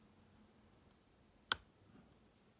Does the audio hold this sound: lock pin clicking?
yes